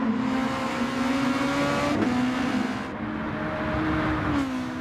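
Race car engine in a racing video game at Suzuka, holding a steady high drone that shifts pitch as the car changes gear and drops into a slipstream, loud and continuous with no talk over it.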